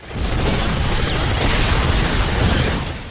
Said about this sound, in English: God, these explosions sound so good.